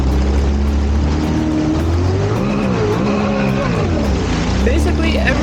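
A Sea-Doo Spark Trixx jet ski with lost propulsion and a worn wear ring revs at full throttle, a loud, close engine roar that rises and falls in pitch as it slips, with wind and water noise around it.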